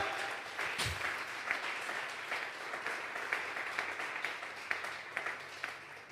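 A church congregation claps in a steady, sustained round of applause during a Sunday service, a dense wash of hand claps filling the room.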